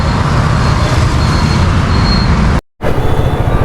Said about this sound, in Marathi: बँगलुरू ट्रॅफिक लागली यार आम्हाला पर्याय नाही